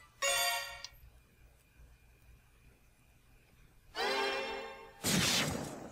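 A mobile phone ringtone going off during a video game session, a short bright musical burst followed after a pause by two louder bursts, over a low background hum.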